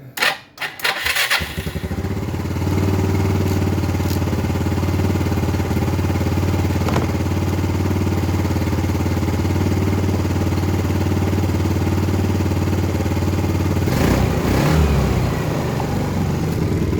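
A carbureted Yamaha Xeon scooter engine starts and settles into a loud, steady close-range idle, then rises briefly as the throttle is opened near the end.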